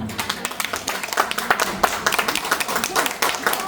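Clapping from a group at a Christmas party vote, quick irregular hand claps running throughout, moderately loud and close.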